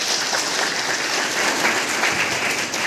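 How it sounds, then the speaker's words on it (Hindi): A crowd claps continuously, a dense steady patter of many hands, fairly close, with no voices over it. "चलो इसके लिए ताली बजा दो भाई साहब"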